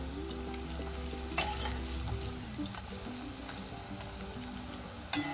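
Gokul pithe fry in hot oil, giving a continuous close bubbling sizzle with soft crackle and a couple of brief clinks or pops, over a low steady hum.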